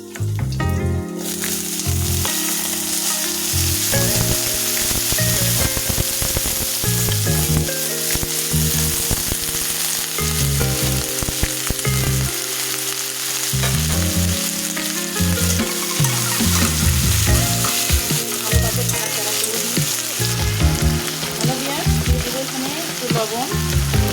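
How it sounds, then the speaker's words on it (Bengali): Flat beans fry in hot oil with onion and green chili, a loud continuous sizzle broken by stirring and scraping strokes throughout, no talking. "এখন আমি সিমগুলো আস্তে আস্তে ছেড়ে দেব।"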